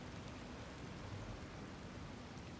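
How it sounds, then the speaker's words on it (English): A waterfall in the game Satisfactory rushes as a faint, steady, broadband hiss, a continuous distant wash of falling water with no other sounds over it. "Oh, that's the waterfall."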